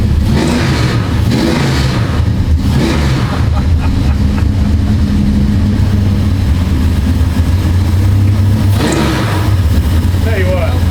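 A Dodge Dart running on E85 fuel idles with a loud, low rumble. It is blipped and revved a couple of times, with a rising surge near the end, and voices talk over the engine throughout.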